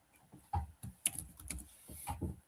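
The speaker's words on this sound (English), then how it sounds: "and I just type whatever in here" Keys on a computer keyboard are tapped in short, irregular bursts of clicks, close and distinct in a quiet room.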